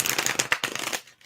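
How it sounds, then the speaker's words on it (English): Tarot deck from a White Numen set being riffled and shuffled, a dense run of quick papery card flicks and snaps close up, tapering off into quiet at the end. "So yeah, we're gonna shuffle. We're gonna shuffle this."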